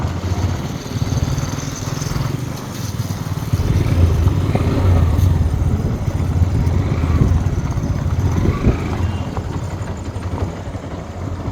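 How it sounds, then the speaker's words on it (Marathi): A small vehicle engine running and revving unevenly as someone learns to ride, a close, continuous motor drone rising and falling with the throttle, with brief voices in the background. "सिद्धू शिकला गाडी चालवायला."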